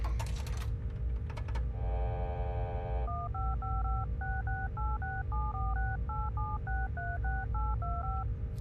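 Telephone keypad dialing tones from the video game Serious Sam Classic: a long, steady run of short, evenly paced DTMF beeps, with brief keyboard-like clicks and a sustained tone before it, over a constant background hum.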